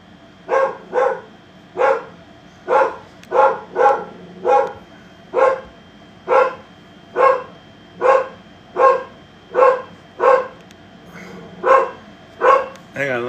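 A dog barks in a steady series of about sixteen evenly spaced, loud, close barks across the whole stretch, with no voices over them.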